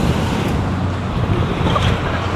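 Loud, steady roar of ocean surf below a 100-foot cliff beside a highway, mixed with gusting wind buffeting the microphone, continuous throughout with no voices.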